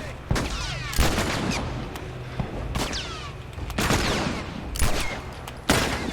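Gunfire in The Last of Us video game bursts out as repeated sharp, loud shots at irregular intervals, with booming reverberation and fainter crackles between them.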